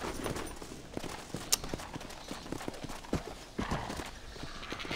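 Horse hooves clip-clop steadily at a quick galloping pace in the video game Red Dead Redemption: Undead Nightmare, over a busy, noisy background, the rhythmic thuds fairly close and moderately loud.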